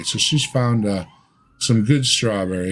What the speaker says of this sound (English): sorry about the siren out the window there